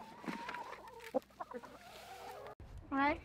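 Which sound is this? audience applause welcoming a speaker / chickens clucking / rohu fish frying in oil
chickens clucking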